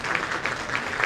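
An audience applauds during a Christmas sermon at a grand celebration in Chicago, a brief dense burst of steady clapping from many hands in a large room.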